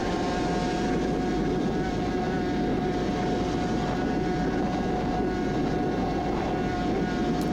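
Suzuki RG500 two-stroke racing motorcycle at full throttle, recorded onboard at around 150 mph on a road course, giving a loud, steady engine drone with heavy wind roar that holds unbroken throughout.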